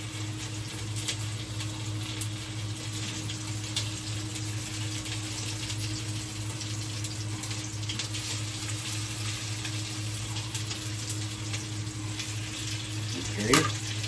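A second batch fries in a little cooking oil, giving a steady, even sizzle with a constant hum underneath and a short clatter near the end.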